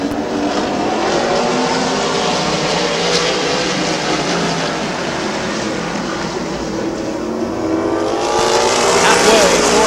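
Race cars roar around the oval at Midvale Speedway, a continuous loud engine drone rising and falling as the pack passes, with an announcer talking over it.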